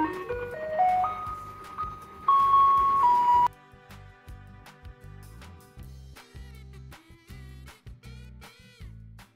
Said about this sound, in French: Ça c'est le camion poubelle qui chante toute la journée.